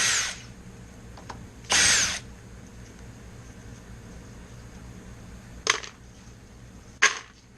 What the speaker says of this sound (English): So I use the same thing, my impact driver, Now take those off one at a time.